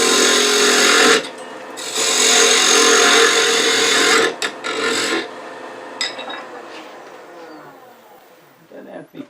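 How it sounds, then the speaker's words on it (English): A spindle gouge cuts exotic wood spinning on a lathe, giving a loud, close scraping rasp in two long passes that then fade into lighter, intermittent scraping. "I'll just use the spindle gouge since that's the tool I got out handy."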